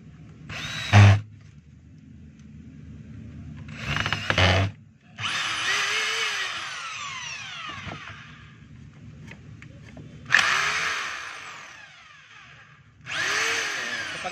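A DeWalt D25032 rotary hammer runs after a brush holder repair in short bursts, with five separate loud runs that spin up and whine down. Quiet gaps fall between them.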